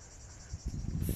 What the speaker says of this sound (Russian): Цикады.